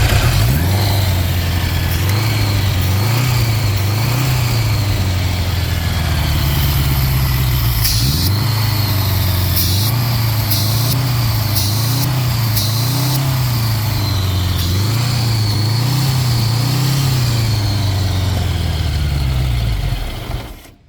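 Honda Goldwing motorcycle engine idling roughly after cranking, a loud, close, continuous mechanical drone with a wavering, surging pitch, a brief stumble partway through and a cut-off at the end.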